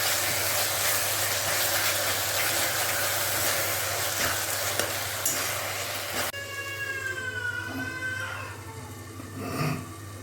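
Fenugreek spice mixture frying in oil, stirred in a pan, gives a steady close hiss and sizzle for several seconds before the sizzle drops away and a high, wavering tonal whine takes over toward the end.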